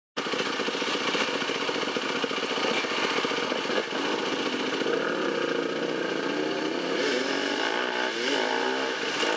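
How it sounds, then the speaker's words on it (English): Trail motorcycle roaring steadily with its back wheel spinning out on a descent, a loud continuous rough engine and tyre churn lasting the whole stretch with no talk. "back wheel spinning out"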